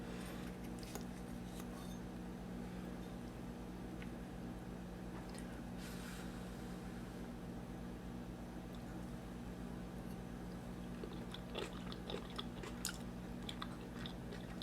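Chewing a bite of chicken pot pie, close and quiet with soft irregular mouth sounds and small crunchy clicks over a low steady background hum, no talking.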